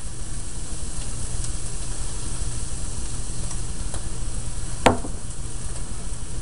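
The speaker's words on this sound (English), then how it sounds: "And you give it a stir to incorporate" A steady hiss of flour cooking into browned sausage grease in a pan, with faint stirring and a single sharp utensil knock partway through.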